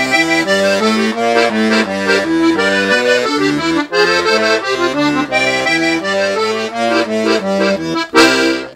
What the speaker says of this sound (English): Now if we play our entire 12-bar pattern with both hands, it looks and sounds like this.